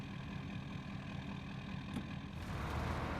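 A Ford HD-550 heavy truck engine in the SnowRunner game idles with a steady, loud low rumble that holds throughout, and its tone thickens slightly near the end.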